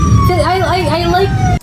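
An ambulance siren in Norway wails close and loud, its pitch sweeping up and down, while a voice talks over it.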